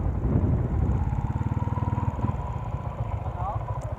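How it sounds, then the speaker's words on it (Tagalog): A tuned Honda Sniper 150 motorcycle with a stock engine revs hard and then settles into a rapid, throbbing putter, loud and close, while someone talks over the engine. "So ganon yung performance ng motor natin pag naka-tune."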